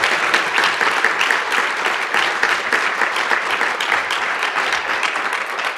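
An audience at a community awards ceremony claps in steady, sustained applause that fills the room, with no pauses.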